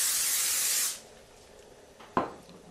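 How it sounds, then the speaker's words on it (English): A can of cooking spray hisses steadily for just under a second over tortilla strips laid out on a cookie sheet, then cuts off, followed by a faint knock. "Take a little bit of your cooking spray."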